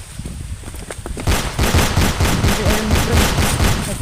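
Bursts of gunfire crackle in rapid, overlapping volleys, starting sparse and then building into a sustained fusillade, fairly close and loud.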